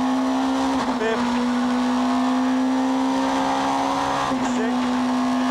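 A 1999 Super Touring race car at Lakeside circuit roars at high revs from onboard, its engine note dipping briefly at two quick upshifts through the gears, loud and continuous.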